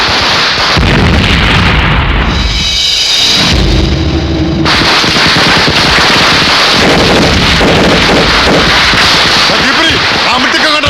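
Firecrackers burst in a dense, loud barrage of cracks and booms during a festive street celebration, continuous and close, with a brief lull near the middle before the explosions resume.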